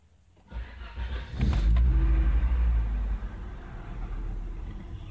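A Volvo engine cranks briefly and catches, rising into a loud, rumbling idle surge that settles to a steady lower hum; close and alone, with no talk.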